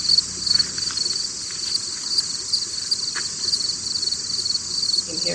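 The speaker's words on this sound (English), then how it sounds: "You can hear the cicadas and the grasshoppers, crickets." Cicadas, grasshoppers and crickets in an open field on a cool, moist day keep up a constant high shrill buzz with scattered chirps, a steady natural chorus with no talking.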